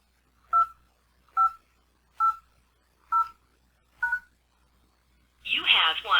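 Five evenly spaced keypad tones sound on a Yealink T46U desk phone as a voicemail PIN is entered, each a short clean beep, followed by a brief burst of a recorded voice prompt.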